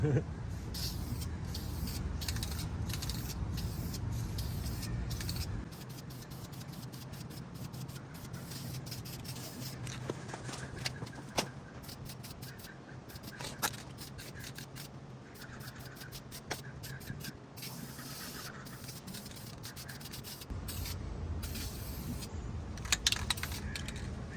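Paint is sprayed onto 6 inch exhaust tips during a fourth coat, a quiet, steady hiss broken by short bursts and faint scrapes.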